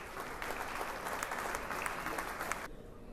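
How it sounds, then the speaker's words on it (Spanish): Applause from the audience at a formal tribute event, a dense steady wash of clapping that stops abruptly near the end, at moderate distance. "Un aplauso, por favor."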